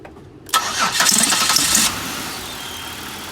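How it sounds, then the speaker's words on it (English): A 2007 Buick Lucerne with its cam position sensor unplugged cranks briefly, fires up with a loud surge and settles into a steady idle, close by with no talking. "we're going to go ahead and crank the car and see what it does"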